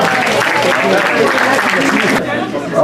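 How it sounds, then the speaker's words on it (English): Audience applause at a memorial gathering, a short burst of dense clapping from a room of people, loud and mixed with some voices, thinning abruptly near the end. "round of applause for Kelly"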